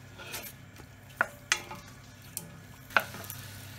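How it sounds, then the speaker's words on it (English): Plums with water, salt and a little sugar are stirred in a pot, with a few sharp metallic clinks of a spoon against the side over a faint bubbling hiss. "Now all we want to do is stir this and bring it up to the boil."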